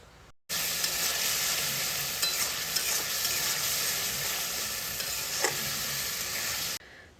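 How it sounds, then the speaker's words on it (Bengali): Masala cooking down with a little water over a low flame for beans and potato curry, giving a steady close sizzle with occasional stirring scrapes, alone and without talk. "অল্প জল দিয়ে কম আঁচে মশলাটাকে ভালোভাবে কষিয়ে নেব।"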